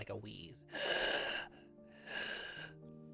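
A voice imitates a creature's dry, wheezing breath, producing two long raspy, strained exhalations separated by a short pause, close and fairly loud, after a brief gasping intake at the start.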